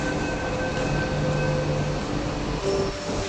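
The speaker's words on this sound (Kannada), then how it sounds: "ಮೆಟ್ರೋ ಬಂತು, ಮೆಟ್ರೋ ಒಳಗೆ ಹತ್ಕೊಳ್ಳೋಣ." A metro train arrives at a city station platform: a loud, continuous rumble of rolling railcars with faint wheel squeal and a brief higher electric whine near the end, close by and without talk.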